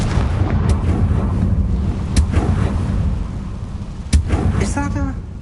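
A Confringo fire spell goes off in Hogwarts Legacy with a heavy, rumbling blast, followed by a couple of sharp cracks and a brief crackling tail over low ambient noise.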